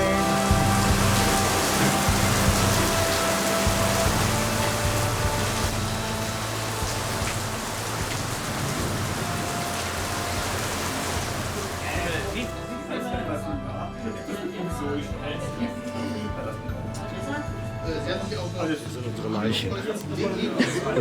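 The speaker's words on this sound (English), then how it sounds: "it's raining." Rain falls hard and steady as a dense hiss of drops on surfaces, with distant thunder. It eases partway through, leaving a lighter patter.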